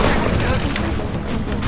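Gunfire in Tom Clancy's The Division, a cluster of loud shots and booms packed together in a dense, noisy burst, with a voice partly mixed in.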